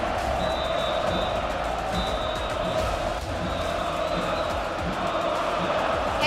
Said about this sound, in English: And you hear them cheer for you right now, Supa.